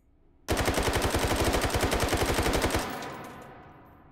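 AK-12 rifle in full-auto mode in the VR game Hot Dogs, Horseshoes & Hand Grenades, firing one sustained, rapid, evenly spaced burst of about two seconds, loud and close, with a short fading tail and no talking.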